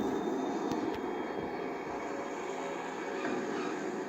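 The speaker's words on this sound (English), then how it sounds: "These cargo planes are demonstrating their specialty, short runway landings." Cargo planes performing short-runway landings at an air show, a steady, fairly distant engine drone that holds evenly throughout.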